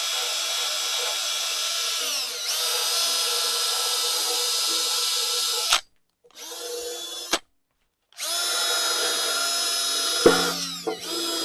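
A small, stiff wire wheel on a grinder spins at high speed, a loud close whine broken by two short pauses and a brief bite against the workpiece near the end.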